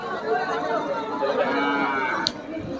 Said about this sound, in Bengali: সুন্দর মাশাআল্লাহ কালো দুইটা গরু।